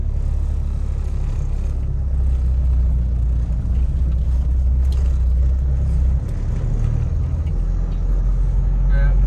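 Steady low engine rumble and road noise from inside a car driven on a short route in Tamil Nadu, continuous and fairly loud throughout with no clear talk.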